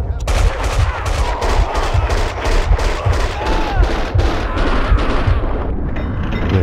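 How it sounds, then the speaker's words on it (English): Rapid gunfire from the Max Payne 2 video game, a dense run of repeated shots with booming low end, loud and continuous, with a faint voice briefly underneath. "Someone must have heard the gunfire."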